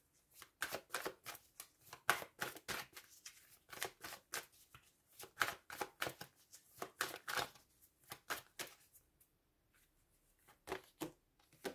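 Tarot cards are shuffled in quick riffling bursts, nearby and fairly quiet, repeating in a brisk rhythm and then pausing near the end.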